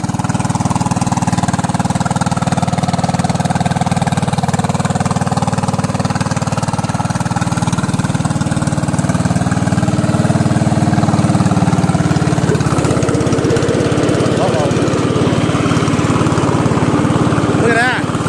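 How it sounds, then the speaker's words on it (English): A Craftsman LT1000 lawn tractor engine runs steadily and loudly close by, a continuous even drone with its mower deck engaged, holding level for the whole stretch with a slight roughening near the end. "Engine runs really well."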